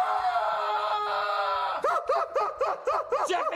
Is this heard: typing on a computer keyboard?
no